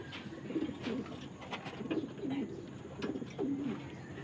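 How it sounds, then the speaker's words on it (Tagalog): Pigeons coo nearby in repeated soft, low phrases, three clear rounds of throaty warbling over faint background noise. "Ito nga mga kalapati."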